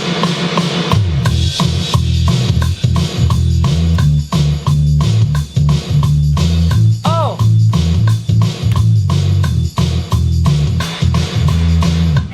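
A deep, groovy bass line plays in a repeating pattern alongside drums, steady and prominent with no talking.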